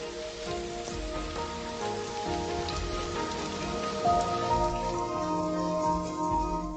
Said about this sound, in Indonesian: Akhirnya turun hujan.